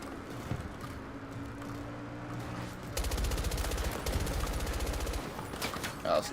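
Rapid automatic AK-74 fire in Battlefield 2042 rattles out in a sustained, fast stream during the second half, after a stretch of engine-like rumble and background game noise.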